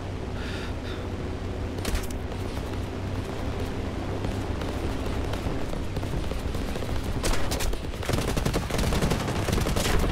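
Bursts of aircraft gunfire from enemy planes in the War Thunder combat game, set during a carrier attack, with sustained rattling volleys over a steady engine roar and heavier clusters of fire toward the end.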